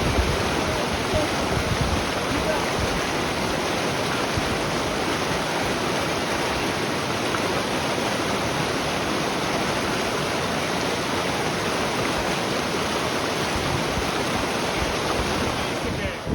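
Steady rushing water of Mission Creek flows without pause, a dense broadband wash close to the microphone, with some wind buffeting.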